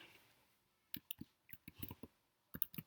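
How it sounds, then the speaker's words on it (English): A computer mouse clicks on a button on screen, a quiet series of sharp, close clicks in quick pairs and clusters with silence between. "click on the save button at the bottom of the screen"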